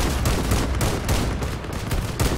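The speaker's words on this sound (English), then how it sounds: "Oh, it's a firefight again." Dense gunfire in a vehicle firefight in the video game Crossout, loud bursts of shots and rapid automatic fire overlapping continuously with no pause.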